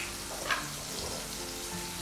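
Spices, garlic and Kashmiri red chili, sizzling in oil on the lowest flame as seasoning for a pointed gourd curry, a faint, steady crackle with one small pop, close by and alone.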